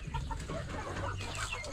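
Indonesian muscovy ducks being moved to a new pen, giving soft, close, low clucking and grunting calls that repeat several times in quick succession.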